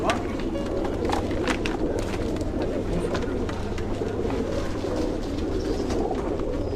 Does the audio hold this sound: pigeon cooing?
yes